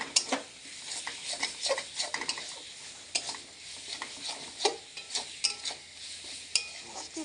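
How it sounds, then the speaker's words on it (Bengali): Spice mix for khichuri is sautéed in a pan, a close, steady sizzle broken by frequent scraping and tapping strokes of a spoon against the pan. "মশলাটা ভালো করে আমি কষিয়ে নিচ্ছি"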